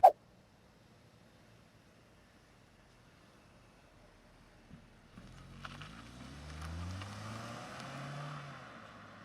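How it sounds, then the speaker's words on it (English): Facelifted 2024 Mazda 2 small car driving, quiet at first, then a low engine note rising as it accelerates, moderately near, no talk. "Driving the facelifted Mazda 2."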